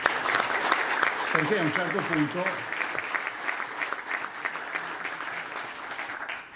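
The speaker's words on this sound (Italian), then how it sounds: "E poi un altro super applauso" A crowd applauds warmly and steadily throughout, with a speaker's voice briefly audible over the clapping.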